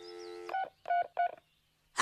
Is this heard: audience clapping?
no